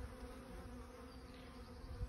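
A medium-sized swarm of honeybees hums around a bait hive as it moves in. The buzzing is a steady, faint drone with no pauses and no voices.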